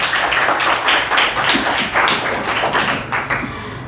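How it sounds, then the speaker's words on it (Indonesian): A class of students claps together in a classroom lesson, a dense run of close hand claps going on for several seconds without pause. "Oke, tepuk tangan."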